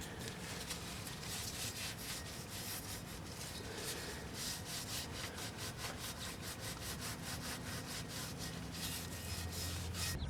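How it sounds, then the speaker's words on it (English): Brake-cleaner-soaked towel wiped firmly over the transmission pan of a 2001 Dodge Ram 1500, producing steady, close rhythmic rubbing strokes that continue without pause and without talk. "get some brake clean on a towel and go ahead and give this thing a good thorough wipe"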